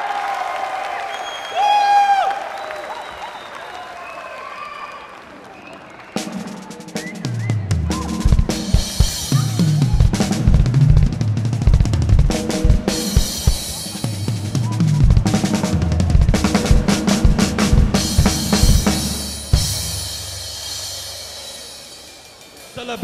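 A concert audience claps and cheers for a band member introduced on stage. A voice speaks briefly first, then loud, dense applause runs for about fifteen seconds, mixed with live drums and band instruments.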